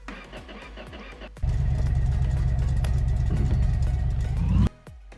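Truck engine in a garage roleplay game, a loud low mid-range drone that starts suddenly, holds steady for about three seconds under a higher whine, then cuts off, with quieter mechanical rumble before and after.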